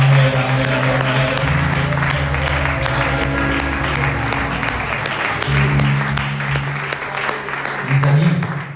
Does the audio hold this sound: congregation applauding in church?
yes